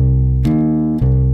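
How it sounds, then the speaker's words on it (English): A bass guitar sounds a sustained minor third interval, the low tones ringing steadily and loud with a brief re-articulation midway, played alone with no talking. "the third, we go to a minor third,"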